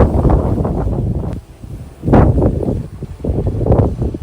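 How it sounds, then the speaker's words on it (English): Gusts of wind buffet the microphone in heavy, uneven rumbling bursts on an outdoor marksmanship range with grass and rocks, dropping briefly before surging again. "It's pretty windy today"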